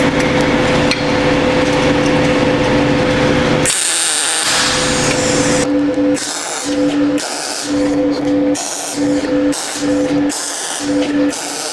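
Warcking Mig200DV MIG welder laying beads: a steady crackling buzz with a low hum gives way to a series of short bursts separated by brief pauses, close and fairly loud.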